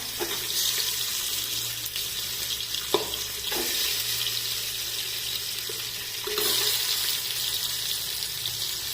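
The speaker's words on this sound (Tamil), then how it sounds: "நல்லா ஃப்ரை ஆகட்டும்." Mutton pieces frying and being sautéed in a pan for mutton mandi, a steady sizzling hiss throughout with a few soft stirring knocks, moderately loud and with no voices.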